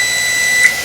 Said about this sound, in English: So that's the timer.